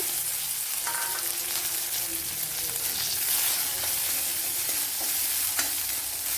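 Chopped ginger and green chillies fry in a pan for a Kerala soya chunks curry, giving a steady close sizzle with stirring scrapes and clinks throughout and no talking.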